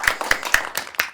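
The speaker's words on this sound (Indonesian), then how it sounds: "Tepuk tangan dong." A few people in an audience at a political campaign event clap briefly, about five distinct close claps in a loose rhythm, no voices over them.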